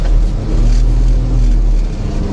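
A heavy engine pulls hard under full throttle with a steady low drone and a faint tonal whine, loud and close throughout.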